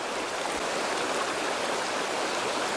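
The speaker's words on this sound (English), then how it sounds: "Streams like this, it's my heaven." Small brook trout stream at Upper Willowemoc in the Catskills flowing steadily, a constant close rushing hiss of water with no voices.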